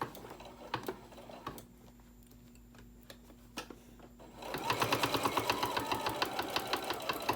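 A sewing machine stitches a fabric seam on a bowl koozie. A few slow stitches and pauses come first, then a steady, rapid run of stitching, close and clear, with no speech.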